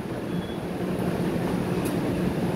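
Train at a railway station terminal in Manila, a steady rumbling wash of rail noise with a faint high squeal, continuous and fairly loud, with no talk.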